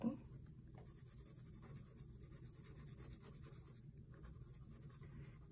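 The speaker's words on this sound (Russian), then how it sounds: "И теперь желтым карандашом сейчас легонечко, очень легко даю такую базовую штриховку." A yellow colored pencil lightly shades on paper with a faint, steady scratchy rubbing of quick back-and-forth strokes, close and quiet throughout.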